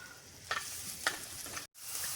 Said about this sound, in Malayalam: അതിലേക്ക് നമുക്ക് ചെറിയ ഉള്ളി ഇടാം. കുറച്ച് ഉപ്പും കൂടെ ചേർത്ത് ഇളക്കാം.